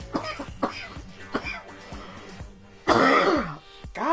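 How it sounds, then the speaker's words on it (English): A person repeatedly clears their throat and coughs, close to the microphone, in a series of short harsh bursts ending in a longer rough cough. "I'm sorry about the coughing"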